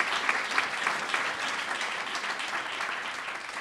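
Steady applause from a crowd fills the space, a dense even patter of many hands clapping at moderate loudness, with no voices.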